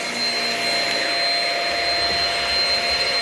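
A Shark Rocket vacuum cleaner runs close and loud with a constant high-pitched whine and rushing airflow, with no voices.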